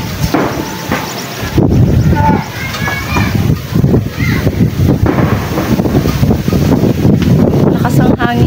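Strong wind buffets the microphone outdoors in a residential compound, a loud continuous rushing roar with gusts, while people talk over it.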